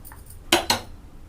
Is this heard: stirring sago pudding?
yes